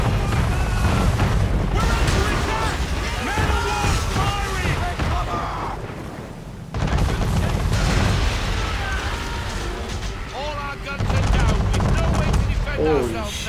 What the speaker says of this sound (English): How did they hit you with cannons if they're right in front of you?